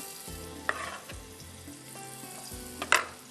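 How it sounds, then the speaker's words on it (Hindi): Chopped ginger fries in leftover Shahtaj cooking oil, a steady close sizzle broken by scrapes and clatters of a spoon stirring it around the pan, with no one speaking. "हल्का सा इसको फ्राई करते हैं।"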